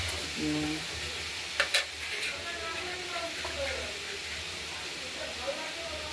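Thin strips of beetroot, carrot and sweet potato fry in hot oil with turmeric, making a constant hissing sizzle broken by a few clinks of stirring near the start.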